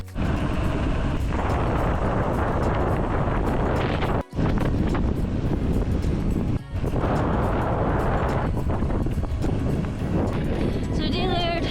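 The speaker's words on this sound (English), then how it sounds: "now we're into a block headwind, exactly the same conditions as I had the last time" A strong headwind batters the microphone on a long mountain bike ride through the Nevis Valley, a loud, continuous, gusting roar that dominates close up, with a person speaking beneath it.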